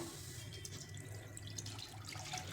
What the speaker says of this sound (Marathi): हे आपण घेतलेलं दूध घालायचे